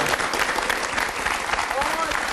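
Studio audience applause at a Korean television show, a dense steady clatter of many hands clapping throughout, loud and close, with a host's voice faintly beneath.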